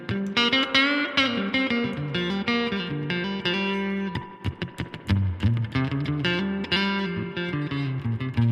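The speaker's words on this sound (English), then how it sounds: "Let's turn up the reverb even more." Yamaha Pacifica Standard Plus electric guitar plays sustained chords and quick picked notes, drenched in a wide, washy reverb that lets each note ring and blur together.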